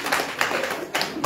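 A few loud, distinct claps from an audience at a counselling session, arriving in uneven bursts with short gaps between them.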